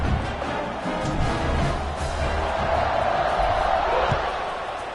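A crowd at a North Carolina State football game fills the stadium with a broad, steady roar before kickoff, loud and continuous with a rising swell of cheering midway, under faint announcer-style voices.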